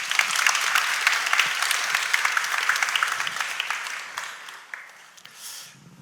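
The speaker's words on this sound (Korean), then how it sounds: "우리 안신기 목사님을 박수로 맞아주십시오" A church congregation claps steadily in sustained applause welcoming a pastor, dense and close, tapering off toward the end.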